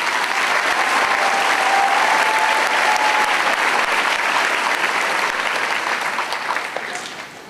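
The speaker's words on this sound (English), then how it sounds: "Let's give them a round of applause." An audience applauds an elementary school chorus at a Veterans Muster event put on by Coweta Schools. The clapping is dense and steady throughout, with no talking, and it only starts to thin out over the last second or so.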